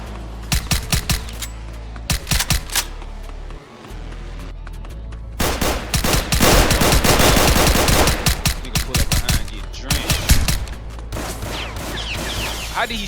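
Gunfire from a suppressed ARP in a video game set in the South Bronx, sharp shots in short bursts and then long sustained rapid fire, loud and close, with a player talking between volleys.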